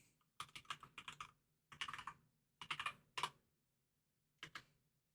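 Bursts of typing on a computer keyboard during a PC gaming session, quick clattering keystrokes in short runs separated by pauses, close and fairly quiet with no talk.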